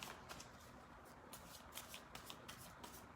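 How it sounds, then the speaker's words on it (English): A deck of cards is shuffled in quick riffling bursts, close and soft, repeating in a steady rhythm with only faint room noise behind. "I do have to shuffle because it's not shuffling very well"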